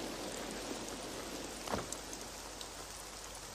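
Steady rain falling, a dense continuous hiss throughout with a faint brief thump partway through, heard alone without voices.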